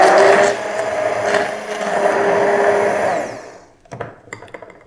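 A blender whirs loudly as it mixes bulletproof coffee with heavy cream, running steadily for a few seconds before cutting off, followed by a couple of small clicks.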